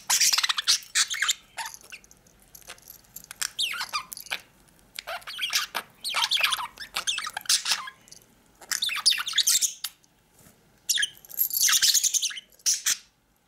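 Two pet birds on a table scattered with sprouted wheat chirp, squeak and squawk in busy, uneven bursts while squabbling over a shared toy, close and fairly loud, with no speech.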